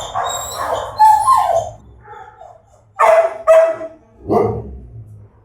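A dog in a shelter kennel barks in separate loud, close bursts: a rough run of barks, a pause, then two sharp barks and a final deeper one.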